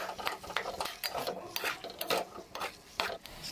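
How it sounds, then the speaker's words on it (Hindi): Khoya being stirred and roasted in a pan for carrot halwa, repeated close scraping and rubbing strokes of a spoon against the pan in an uneven rhythm, no voices. "तो इसलिए हम खोया को पहले भून लेंगे अच्छे से।"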